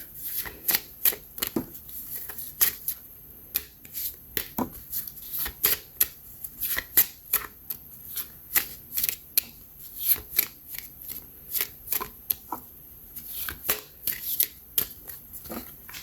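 A deck of tarot cards being shuffled by hand, with repeated crisp riffling and slapping bursts in an irregular rhythm, close and clear with no talking.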